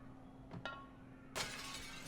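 Glass smashes in Little Nightmares II: a sudden bright shattering burst with tinkling debris trailing off, preceded by two soft knocks, with a low steady hum underneath.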